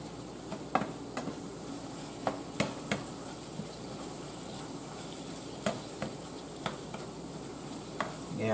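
Ground meat frying in a pan for stuffed bell peppers, with a low steady sizzle broken by scattered scraping and clacking stirring strokes, moderately near and quiet.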